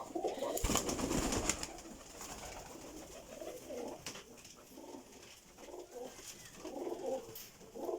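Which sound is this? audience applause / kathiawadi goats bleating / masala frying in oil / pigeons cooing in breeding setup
pigeons cooing in breeding setup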